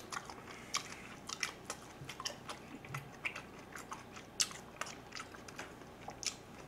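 Close, soft chewing of spicy stir-fried pork lettuce wraps, with repeated crunchy bites and wet mouth sounds in an irregular rhythm. No one speaks.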